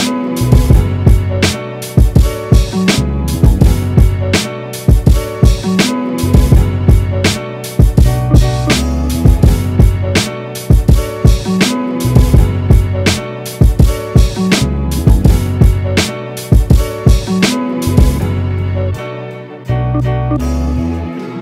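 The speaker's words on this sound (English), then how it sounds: "the kick, the snare, the open hat, you know, of course the sample and then the bass" Boom bap hip hop beat built from a sample taken off actual vinyl, with a punchy kick, snare, open hi-hat and bass in a steady looping groove. It plays loud and full throughout, with no voices.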